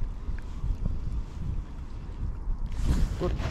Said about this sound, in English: hopefully this wind isn't annoying us too much